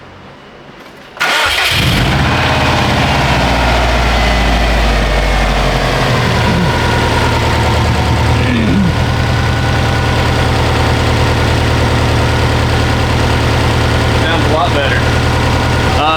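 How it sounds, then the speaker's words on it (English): A Subaru WRX with a freshly swapped manual transmission cranks over, catches with a loud burst and settles into a steady, rumbling idle with the exhaust just hooked up, loud and close throughout. "Let's go ahead and crank it up."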